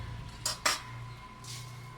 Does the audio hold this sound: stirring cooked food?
yes